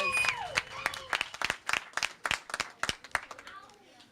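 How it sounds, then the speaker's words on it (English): Scattered clapping from a small outdoor crowd at a playground opening, individual sharp claps in an uneven rhythm with a few voices and children talking over them. "Can we give them a huge round of applause?"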